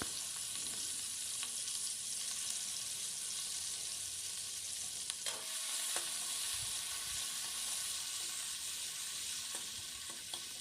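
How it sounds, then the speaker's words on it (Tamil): Chopped onion frying in hot oil in a kadai for an India-style macaroni pasta, a steady bright sizzle running unbroken throughout with a few faint clinks, no voices. "ஆயில் சூடான பிறகு நாங்கள் வெட்டி வச்சு அந்த ஒனியனை சேர்த்துக்கொள்வோம்"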